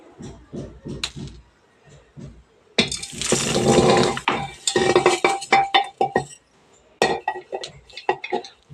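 Measures of rice poured into a large pressure cooker pot, a rushing grainy pour of several seconds amid clinking and knocking of metal utensils, with someone talking at moments before and after.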